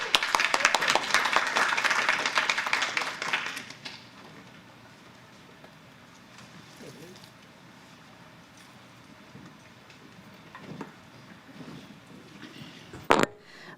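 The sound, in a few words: applause from meeting audience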